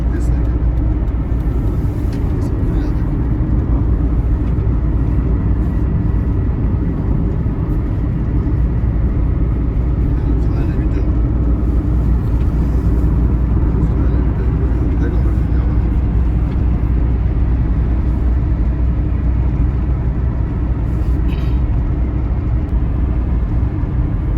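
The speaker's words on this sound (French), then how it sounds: "Vous voyez tous ces camions qui sont alignés. C'est parce qu'il y a une usine ici que vous voyez ce trafic de camions." Heavy truck traffic on a road beside a factory at the Binao site: a loud, continuous low engine rumble and road roar hold steady throughout, with no talking.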